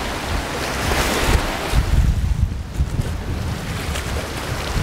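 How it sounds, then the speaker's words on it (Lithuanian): Strong seaside wind roars and buffets the microphone without pause, loud and close, with surf rumbling beneath. "Šiandien vėjas dar stipresnis."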